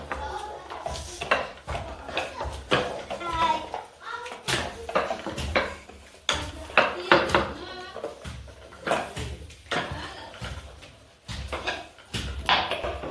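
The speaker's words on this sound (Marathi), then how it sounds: "आता भाई पण पापड लाटायला चालला आहे आता भाई पण लाटत आहे" Papad dough is rolled out with a rolling pin in a village home, giving repeated knocks and clatter amid busy household noise while people, including children, talk throughout.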